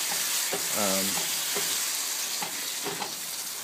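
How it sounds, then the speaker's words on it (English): Pork filling for tamales bubbles and simmers in a pan as it thickens, a steady close sizzle with soft stirring scrapes and a few light clinks, no one speaking. "I'm going to let my my pork simmer a little bit longer"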